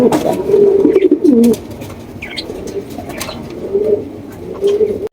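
Racing pigeons coo close by in low, rolling murmurs, several phrases repeating with short gaps and faint background noise.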